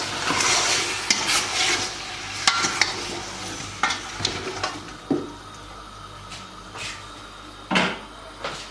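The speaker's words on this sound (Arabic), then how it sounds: "كندير الملحه مع الكركم، وكنخليه يتقلى شويه." Meat frying with salt and turmeric for Moroccan couscous, a close soft sizzle under repeated scraping stirs of a utensil against the pot, irregular strokes with a few sharper knocks, no talk.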